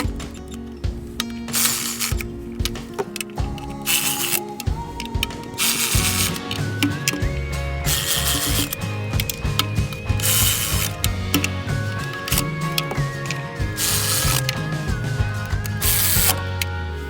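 Ratchet clicking in repeated bursts while snugging down the 14 transmission pan bolts on a 4R75 transmission, close and steady over a mechanical hum, with no talking.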